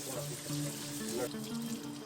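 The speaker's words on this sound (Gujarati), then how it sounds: "પાણીની ધાર નીચે ઓછામાં ઓછી 15 મિનિટ સુધી સાબુ લગાવીને ધુઓ" Tap water running steadily over a wound being washed with soap, a soft continuous splashing under a voice talking.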